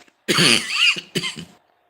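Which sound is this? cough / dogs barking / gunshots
cough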